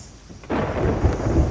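In the video game Sea of Thieves, a sudden crack of thunder from a storm at sea breaks after a quiet moment, followed by a heavy rumbling roll, close and loud.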